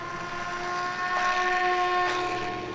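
An E-flite Ultrix 600mm RC plane's electric motor runs at half throttle on takeoff, a steady whine with bright tonal lines that rises slightly in pitch partway through.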